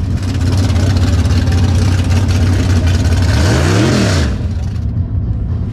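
A nitrous-fed Chevy Nova drag car on full slicks roars loud and close, its engine holding a heavy drone before a quick rev sweep, then cutting away abruptly near the end.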